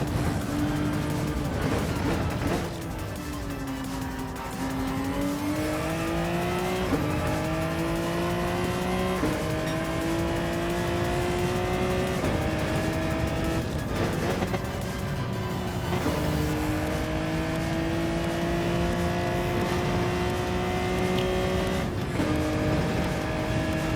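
A race car driven hard in a racing video game, its engine droning at a sustained high pitch that climbs and drops with gear changes, along with occasional tire squeal, steady and loud throughout.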